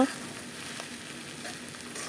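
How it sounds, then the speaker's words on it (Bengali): Food sizzles steadily in hot oil, a soft even crackle with no talking. "আলুগুলোকে লাল করে ভেজে নিয়েছি দেখতে থাকো"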